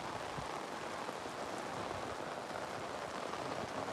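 Heavy rainfall flooding crop fields, a steady, loud hiss of drops hammering the soil and puddles nearby, constant throughout with no voices.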